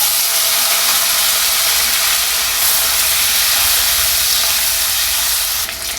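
Ten to fifteen small onions, added with dried red chillies, hiss loudly in hot oil for a pirandai chutney, a close, steady roaring sizzle throughout.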